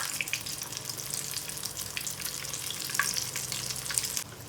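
Shami kebabs fry in a pan with a steady, close sizzle and crackle, while faint scraping and tapping suggest the patties being turned over.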